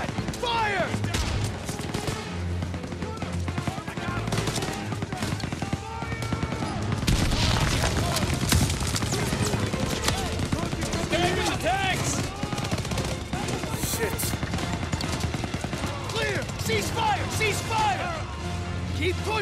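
Gunfire rattles at an MG-42 nest in Call of Duty WWII, with dense machine-gun bursts and rifle shots running almost continuously amid battle noise.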